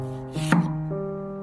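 A kitchen knife slices the ends off an onion, giving one crisp chop against the cutting board over a steady background tone.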